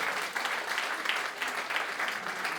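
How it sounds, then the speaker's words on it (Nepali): Dense, steady applause from an audience sending a performer off the stage at a Shivaratri spiritual gathering, sustained and fairly loud for the whole stretch with no voices over it. "हामी उहाँलाई हार्दिक आभार व्यक्त गर्दै जोरदार तालीका साथ स्टेजबाट बिदाई"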